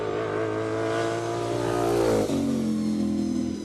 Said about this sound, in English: Nice, clean sounding V8